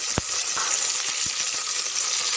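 Raw bean seeds tipped into a hot pan of frying ingredients set off a steady, close hiss of sizzling oil, punctuated early on by a few soft knocks as the beans land.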